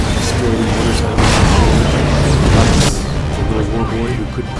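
Explosions boom through narrow corridors in a Mad Max wasteland battle, a dense, loud, continuous roar of blasts and crashes with no clear separate hits, mixed with engine noise.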